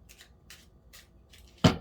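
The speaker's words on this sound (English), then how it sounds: "1 more shuffle." Tarot cards shuffled by hand in a few soft, brief riffling bursts spaced apart, ending in one louder, sharper snap of the deck close by.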